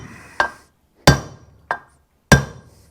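Four loud, sharp metal-on-metal hammer blows drive a big roller bearing into a Yamaha Moto 4 rear differential, each strike ringing briefly and spaced about two-thirds of a second apart, close up with no talk.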